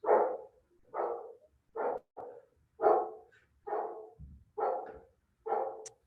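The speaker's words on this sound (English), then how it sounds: "neighbor's dogs are right outside the window" Neighbor's dogs bark just outside a window in a rhythmic series of about eight sharp barks at roughly even intervals, moderately loud and fairly near, with no talking over them.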